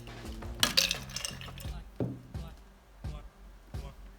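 Ice cubes dropped into the jar of a Xiaomi Vitamer blender, making a quick burst of hard clinks and rattles, followed by a few scattered knocks against the container, close and moderately loud.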